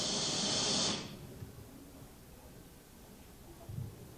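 Simulated tinnitus: a steady, loud broadband hiss that plays for about a second and then cuts off, leaving faint room noise with a brief rustle near the end.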